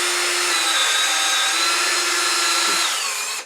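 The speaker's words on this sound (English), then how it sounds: "take a drill bit and drill through" A power drill with a bit bores steadily through a pin wedged in a recycled Japanese toy, giving one continuous loud, close whine that cuts off at the end.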